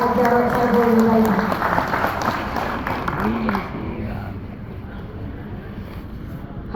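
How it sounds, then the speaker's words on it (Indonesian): Audience applause at a gathering honoring PDI Perjuangan chair Djarot Saiful Hidayat: loud, dense clapping from a crowd that thins out after a few seconds, with voices mixed in throughout. "Sekali lagi kita beri tepuk tangan yang meriah untuk Bapak Jarod Saiful Hidayat"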